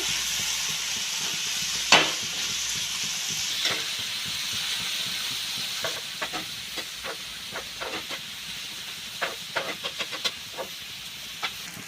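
Chicken curry masala with onion and tomato is stirred in a hot pan, a continuous steamy hiss and sizzle with a run of light, fairly regular scraping taps from the spoon.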